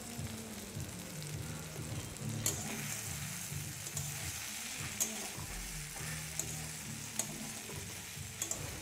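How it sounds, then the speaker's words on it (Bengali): Fried Wai Wai noodles being mixed with tomato, onion and a spice mix in a pan give a soft sizzle. Scrapes and clinks from the stirring utensil come at irregular intervals, quiet and close, with no talking. "ওয়াইটা দেওয়ার পর ভালো মতো মিক্স করে নিতে হবে টমেটো আর পেঁয়াজের সাথে।"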